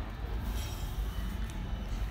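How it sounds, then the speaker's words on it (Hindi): A second-class passenger train pulls out of Igatpuri station with a continuous low rumble of rolling wagons, heard from inside the carriage with a faint high squeal midway. "यहाँ से इगतपुरी को हम लोग अलविदा कहते हुए हमारी ट्रेन निकल चुकी है"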